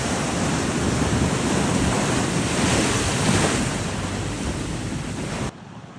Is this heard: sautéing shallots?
no